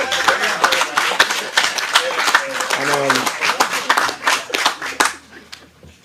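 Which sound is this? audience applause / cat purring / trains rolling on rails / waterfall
audience applause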